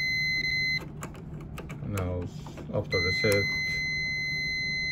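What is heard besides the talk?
continuity test buzzer beeping on Millermatic welder circuit breaker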